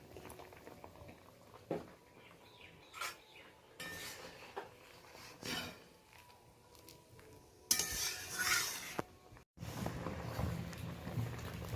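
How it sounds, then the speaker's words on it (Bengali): A ladle stirring and mashing cooked lentils in a pot for Bengali mango dal: quiet, irregular squelches, scrapes and clinks against the pot, broken by brief pauses. "আমি একটা হাতা নিয়ে এইভাবে একটু ঘুটে নিচ্ছি"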